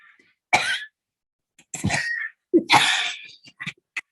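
A few harsh, close coughs in quick succession, with short gaps between bursts and a throat-clearing rasp at the end.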